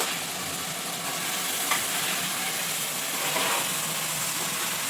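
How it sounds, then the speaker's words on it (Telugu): Washed palakura greens go into cooked tomato in a hot pan, producing a dense, even sizzling hiss that holds steady throughout. "ఇప్పుడు కడిగి పెట్టుకున్న ఆకుకూర వేయాలి"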